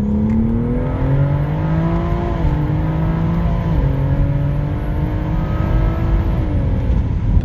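A tuned BMW M140i making around 1000 hp, with a stock engine, accelerates hard. Its engine note is loud, close and steady, with harmonics rising through the gears and a couple of brief dips at the shifts.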